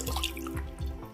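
A little water is poured into an egg masala of Kashmiri red chili, red chili powder and cumin-coriander powder in a pan, heard as a short, close splash and trickle.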